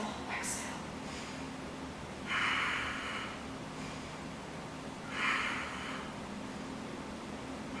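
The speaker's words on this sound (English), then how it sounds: "inhale, inhale, exhale, exhale" Two forceful, breathy exhales during a Pilates workout, spaced a few seconds apart over faint background noise, each one a short, close puff of air.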